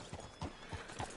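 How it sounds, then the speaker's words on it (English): Horse hooves clopping on ground in a video game, several muffled, irregular hoofbeats at a walk, quiet against a noisy background. "Hitch your horse up here."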